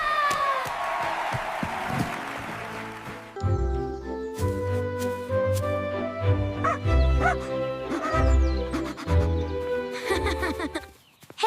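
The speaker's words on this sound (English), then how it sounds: "Woof, woof, woof, woof." A dog barks in several short bursts of about four, against a tonal backing, after a noisy rush at the start.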